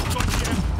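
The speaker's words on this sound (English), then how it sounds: "I think I'm being shot from behind." Bursts of gunfire in Uncharted 4, coming from behind the player, rattle in a quick irregular volley with game noise beneath.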